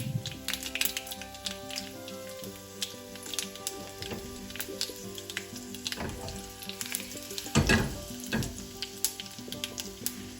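Dried red chillies and curry leaves sizzle and crackle in hot oil after mustard seeds, a busy close-up frying hiss with scattered pops and stirring clatter throughout.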